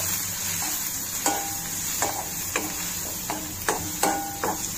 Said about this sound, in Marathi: हे 2 मिनिटं परतून घेऊया.